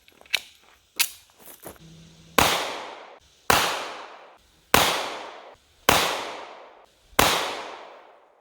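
A Smith & Wesson Bodyguard 2.0 pistol fires Hornady 95 grain XTP rounds at a range, five loud, evenly spaced shots about a second apart, each with a ringing decay, after a few sharper, fainter reports from nearby shooters.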